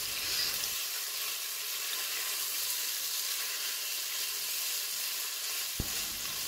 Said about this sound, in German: Einen Esslöffel Tomatenmark dazugeben und weiter anrösten.